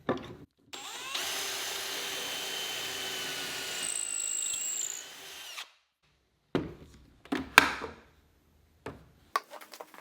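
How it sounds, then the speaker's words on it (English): A power drill bores a hole through a wooden bracket clamped in a Kreg pocket-hole jig, one sustained whine of about five seconds, then a few short bursts and clicks as the bit is withdrawn and the tool handled. "I'll drill a hole at the top of each bracket."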